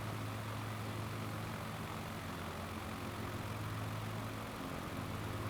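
A modern bush plane's engine heard from outside in Microsoft Flight Simulator 2024, a steady droning hum with a low rumble, constant and moderately loud throughout, with no talking.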